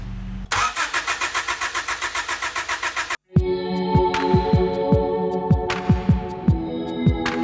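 A Honda Civic EK with a swapped D16A engine cranks on the starter in a rapid, even chugging rhythm for about three seconds, stops briefly, then a rhythmic pulsing hum with regular ticking follows, loud and close.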